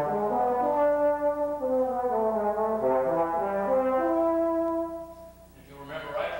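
A trombone plays the prelude from Bach's Cello Suite in the Wilkomirski edition, a steady flowing line of sustained, connected notes heard up close and alone, fading out near the end before a brief soft sound.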